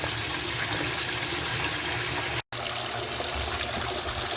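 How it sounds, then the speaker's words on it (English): Water pouring steadily into a washing machine drum before detergent is added, a continuous broad rushing and splashing that stays even throughout, interrupted by one brief cut partway through. "I always start a little water before I add my detergent and let it dissolve a little bit before I add my clothes."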